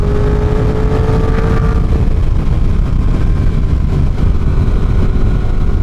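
Yamaha R1 liter-class four-cylinder sport bike cruising on a highway, with a loud, steady engine drone under heavy wind roar and a brief rising whine early on.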